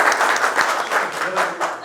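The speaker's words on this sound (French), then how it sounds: "Tasfiqa, c'est applaudissement." Applause from an audience at a soft skills leadership workshop, dense steady clapping that carries through the whole moment at a fairly loud level, with no break.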